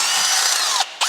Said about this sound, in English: just grab any random drill bit out of the box and just punch one through the sump